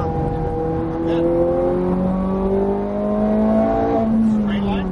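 A Ferrari 430 Scuderia accelerates on a race track, its engine note climbing through the revs in rising sweeps with a gear change midway, loud and close from inside the car, with a voice talking over it.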